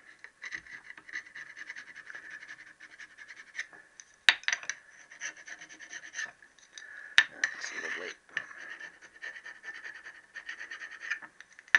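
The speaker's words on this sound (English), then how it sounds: "I'll give it a scrape." Scraping old head gasket material off a Triumph T140E motorcycle engine part with a hand tool: close, dry, gritty rasping strokes in repeated bursts, with a few sharp ticks and clinks between them.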